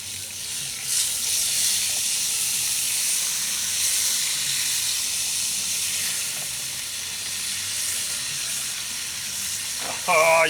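Beef broth, onion and garlic sizzle in a Dutch oven with a roast, giving a continuous bright hiss of frying that stays steady, and a brief voice is heard at the end.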